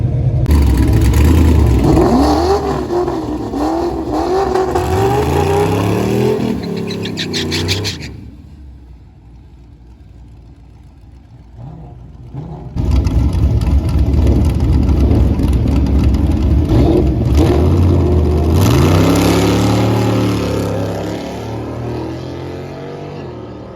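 Street race car on a drag strip making a full-throttle pass, engine screaming up through the gears with clear shift breaks, a quieter lull midway, then another loud wide-open run; voices talk over parts of it.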